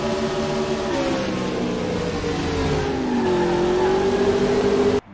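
A NASCAR Cup Series stock car roars at speed, a loud sustained engine drone whose pitch dips then steadies, running unbroken for about five seconds before stopping suddenly.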